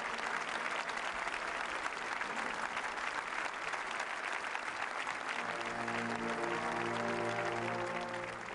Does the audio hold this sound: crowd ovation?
yes